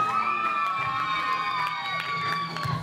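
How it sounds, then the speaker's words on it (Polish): An audience at a dance competition event in Tarnobrzeg lets out a sustained high-pitched squeal, many voices blending into a loud crowd cheer that holds steady for about three seconds. "Ale dla serwera też piśnijcie."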